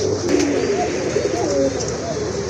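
A large male red Rajgolla pigeon with deep red colouring and a bold neck marking gives throaty, rolling coos close by over about two seconds, with no talking.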